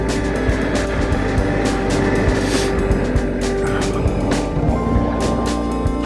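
A Honda Africa Twin DCT motorcycle riding the White Rim trail in Utah, its engine holding a steady, close, loud drone with wind rush and a few brief ticks, and no clear breaks between gears.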